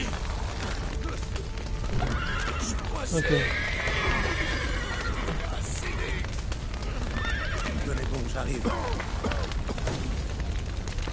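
Horses in The Witcher 3 video game whinny and neigh over a steady clatter of galloping hooves, loud and continuous with game noise underneath.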